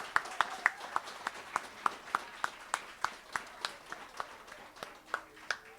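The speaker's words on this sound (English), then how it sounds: "Why don't you give yourselves a round of applause for coming out?" Scattered clapping rises from a small crowd at an International Day of Peace gathering, fairly faint, with individual claps sounding in a loose, steady rhythm.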